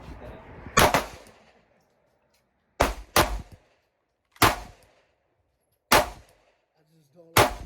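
A Glock 43X pistol fires six sharp, loud gunshots in uneven spacing, some in quick pairs, with short echoing tails and near silence between them outdoors.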